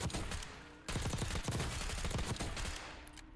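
Rapid automatic gunfire at the firing range in Black Ops 6, dense bursts of loud close shots, a brief pause, then a long sustained stream of fire that trails off at the end.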